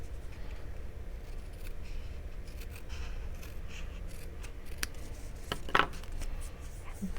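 Scissors trim excess length off a cardstock layer for a pocket card, giving a single crisp snip near the end over a quiet, faintly noisy room.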